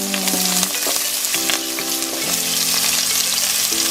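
Chopped onion sizzles loudly in a hot pan for shrimp egg fried rice, a steady crackling fry with occasional scraping stirs and faint tonal clinks, close and continuous, no talking.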